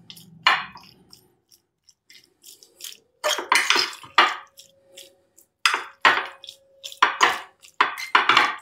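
Chicken marinade with pepper, salt and oil is mixed in a bowl, giving sporadic close clinks, wet squelches and scraping knocks separated by short quiet pauses.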